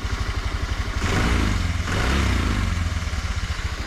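A Honda Vario Techno 110 scooter fitted with a hybrid open air filter idles and is briefly revved, its small engine chugging in a quick steady pulse that swells for about a second, close by and loud.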